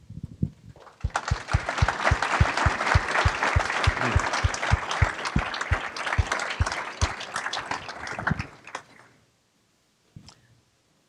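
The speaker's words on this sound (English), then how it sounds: "let's give them a round of applause" Applause breaks out for city staff at Marshall's State of the City presentation, starting after a second, building into a full, steady ovation with sharp individual claps, then stopping abruptly near nine seconds, followed by near silence and one faint click.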